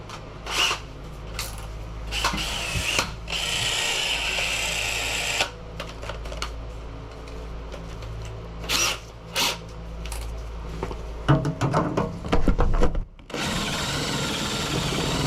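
A power drill fitted with a dull bit runs in repeated bursts, whirring loudly through spells of steady drilling broken by brief pauses, stops and restarts.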